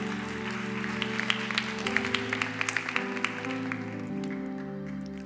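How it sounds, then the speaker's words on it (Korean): A church congregation applauds during a Sunday youth worship service. The clapping is brief and scattered over a sustained organ or keyboard backing and fades after a few seconds. "우리 다시 한번 큰 박수로 격려했으면 좋겠습니다"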